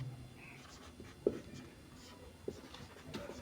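Pen writing a math equation on paper during a class 10 algebra lesson, soft scratchy strokes with a couple of sharper taps, quiet and close, with no speech.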